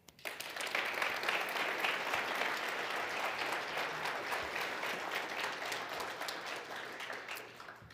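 Sustained applause from a large crowd, a dense even wash of clapping that swells quickly and holds steady before tapering.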